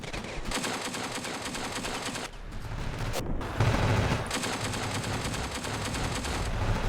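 Sustained bursts of DP-28 machine gun fire in the Ravenfield video game, rapid automatic shots running almost continuously with brief pauses, loud and close, mixed with other gunfire.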